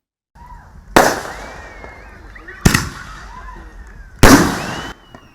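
Three loud Juneteenth celebration fireworks bursts boom one after another about a second and a half apart, each crackling and echoing as it fades.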